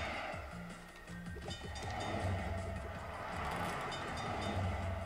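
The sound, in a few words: train passing in a Frogger-style video game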